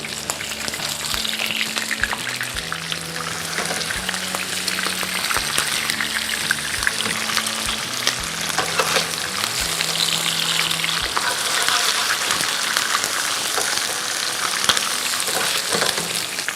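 Salmon pieces frying in oil for Thai green curry, a loud, steady crackling sizzle with spattering pops that continues unbroken throughout with a faint background hum and no speech.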